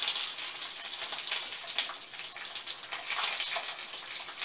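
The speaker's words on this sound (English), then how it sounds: "I just dumped the extra moisture from the lid." Water poured off a frying pan lid while potatoes fry, a steady splashing hiss of liquid running for several seconds at moderate, close level with no talk.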